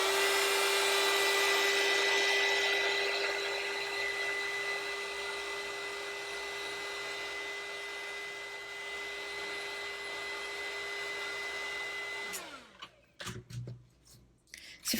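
Hair dryer blowing on a succulent painting, a loud steady whine and rushing air for about twelve seconds before it cuts off, followed by light handling noises.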